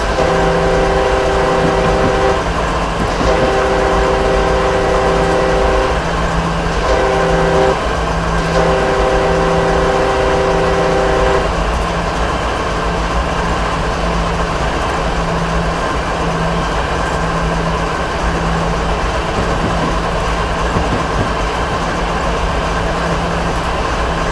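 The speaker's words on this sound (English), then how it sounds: "Train's got a good sound to it" Train running in Train Simulator 2015 gives a constant heavy rolling rumble and low hum, with a series of horn-like tonal blasts in the first half before the steady running sound carries on alone.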